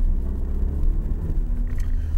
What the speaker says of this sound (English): Nothing coming, handbrake off, wee bit of gas, on I go.